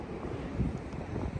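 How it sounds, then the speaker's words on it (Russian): Steady wind buffets the microphone on an ocean beach near San Francisco, a continuous low rumble with a faint wash of surf beneath and no voices. "В принципе, не холодно, немного ветерок."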